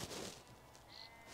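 Sheep bleating beside a roadside in Norway, a single faint, distant call carried over outdoor wind noise, with no voices.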